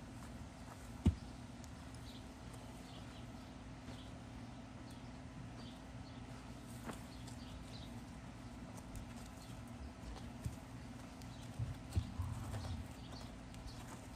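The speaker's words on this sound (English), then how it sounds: "So you see how this horse is moving away from this right here?" A horse walks off, its hooves clip-clopping faintly on the ground in a few scattered steps over a quiet steady background hum.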